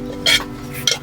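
Food frying in a pan with a steady sizzle, broken by two brief bursts of stirring that scrape and clatter against the pan, heard close and alone.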